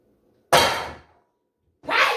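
Dishes being put away make two loud, close crashing bursts, the first ringing out for about half a second before fading, the second starting just before the end.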